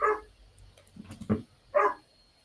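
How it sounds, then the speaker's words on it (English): A dog barks a few times indoors, short sharp barks with brief gaps between them, moderately close, with a quiet room behind and no talk. "And my dog is barking"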